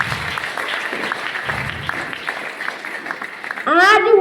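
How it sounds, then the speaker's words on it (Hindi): Audience clapping at a gathering comes in uneven bursts under a voice over a loudspeaker, and a louder, sweeping tonal sound rises near the end. "तो फिर से गुरु जी के लिए जोरदार ताली होनी चाहिए।"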